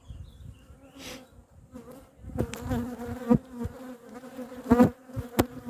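Honeybees buzz around an apiary hive, a close, continuous drone with individual bees swelling past the ear in loud passes.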